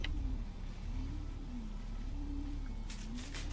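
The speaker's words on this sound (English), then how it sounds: "The scrap gas engine is definitely the most crude out of all of them" A crude scrap gas engine in a vehicle-building video game drones steadily at low pitch, its tone rising and falling slightly, with a few sharp clicks near the end.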